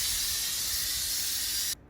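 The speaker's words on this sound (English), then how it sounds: "The steam is done hissing." Steam hisses loudly and steadily out of a cooking pot on the stove, a broad even rush that cuts off abruptly near the end, leaving quiet.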